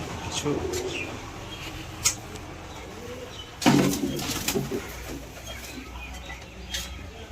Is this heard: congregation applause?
no